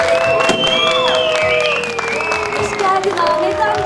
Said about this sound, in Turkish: Alkışlarınızla Ahmet Pilevitik geliyor